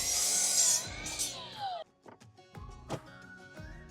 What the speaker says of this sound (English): A miter saw works great to make these cuts